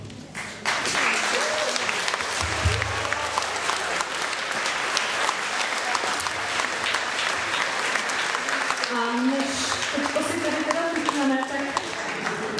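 Audience applause for a band at a concert, a dense, steady wash of clapping that runs loud and continuous through the whole stretch, with a few faint voices mixed in beneath it.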